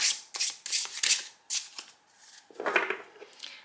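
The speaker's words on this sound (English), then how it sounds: "then we give a quick shuffle to this one as well" A deck of oracle cards is shuffled by hand, a series of quick, close, papery riffles and flicks in short bursts with brief pauses between them.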